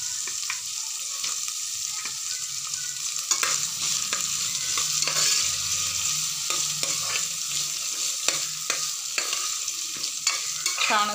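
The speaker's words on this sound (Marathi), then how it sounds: "थोडेसे तेलावरती सॉफ्ट करून घ्यायच्या आहेत भाज्या आपल्याला।" Vegetables, including carrot pieces, are stir-fried in a little oil for restaurant-style veg pulao. A continuous sizzle runs under repeated scraping and tapping of a spoon against the pan, close and fairly loud.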